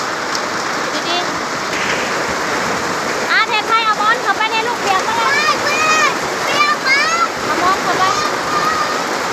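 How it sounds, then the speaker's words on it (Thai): Heavy rain pours down during a storm in Laos, a dense steady hiss of falling water, close and loud, while a person talks over it throughout and birdlike chirps flicker in the background. "ฝนตกมากกับเปียกเบิด"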